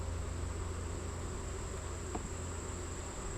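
Honey bees fanning inside a hive during a summer inspection, a steady dense buzzing hum that stays constant throughout, close and fairly loud, with no voices.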